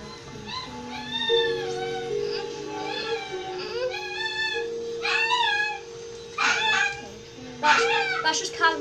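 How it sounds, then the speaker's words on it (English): A dog whines and yowls in drawn-out, rising and falling cries, several bursts in a row, against a background hum. "That's just my dog, by the way."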